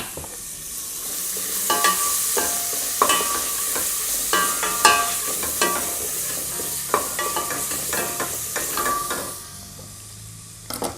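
Asafoetida and other curry ingredients sizzle in a hot pan, a steady frying hiss broken by repeated scraping and stirring strokes, close and without speech.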